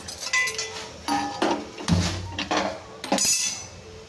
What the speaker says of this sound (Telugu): ముందుగా గ్యాస్ మీద కళాయి అయితే పెట్టుకున్నాను నేను.